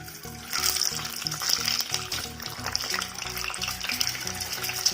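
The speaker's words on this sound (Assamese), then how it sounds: "এতিয়া মই কণীখিনি ইয়াত ফ্ৰাই কৰি ল'ম।" Eggs fry in hot oil over a low flame with a close, steady sizzle, broken by regular scraping strokes of a spatula stirring them.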